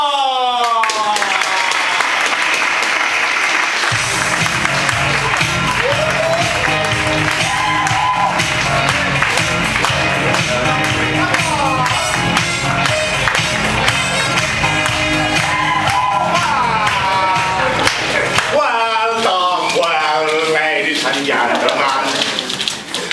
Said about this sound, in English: So now, let's welcome them with a big applause!